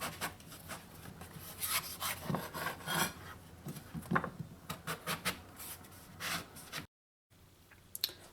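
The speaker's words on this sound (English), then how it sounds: "After you've cut them in half, you're going to cut them into slices like this." A knife slicing breadfruit halves into thick pieces for Trinidad oil down: a series of soft, close scraping and rubbing cuts in an irregular rhythm, with a brief silent gap near the end.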